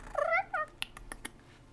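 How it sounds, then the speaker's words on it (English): Cat-like vocalization standing in for a pseudo-dragon's purr in a tabletop fantasy game session, a short rising trill followed by several soft clicks, close and faint. "you hear this sort of like frightful little purr as the pseudo-dragon kind of pushes its head"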